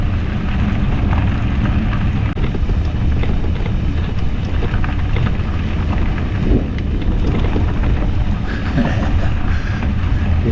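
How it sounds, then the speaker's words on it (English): Low, rumbling thunder rolls beneath steady rain and wind buffeting on a bike route between Silverthorne and Del Norte, Colorado, a continuous dense roar with no clear individual claps. "Hear the thunder."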